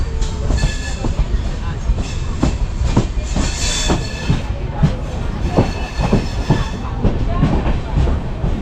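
Konkan Railway passenger train running between Ratnagiri and Sangameshwar, heard from inside a coach: loud steady rumble with rhythmic clickety-clack of wheels over rail joints repeating throughout.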